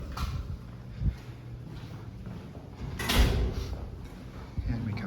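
A building security door unlocks after a key fob tap and slides or swings open with a couple of soft thuds and a brief mechanical whoosh, heard up close over low background noise.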